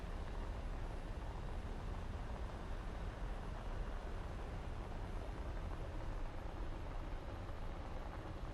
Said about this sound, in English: I know it's a jet, but this thing's just a glorified prop.